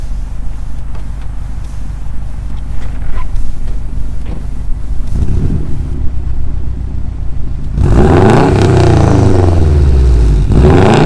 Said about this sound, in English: you want to jump inside and give it a little rev for me?